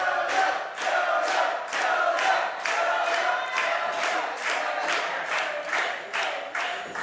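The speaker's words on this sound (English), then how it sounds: "Crowd here appreciating the official." Sports crowd at a live event cheering and applauding for the official, a steady roar with rhythmic clapping or chanting pulses repeating about every half second.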